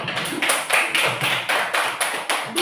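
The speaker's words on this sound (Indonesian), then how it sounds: "Tepuk tangan dulu." A school class claps hands together in a steady rhythm, loud, evenly spaced bursts about every half second, with no talking over it.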